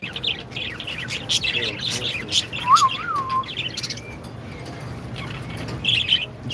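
Small ringneck parrots chirp and squawk in bursts, several caged birds calling close by over a low steady background hum.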